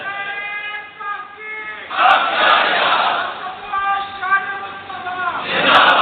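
A crowd at a religious gathering marking Youm al-Badr shouts slogans in loud collective bursts that swell and fade between stretches of a single amplified voice speaking.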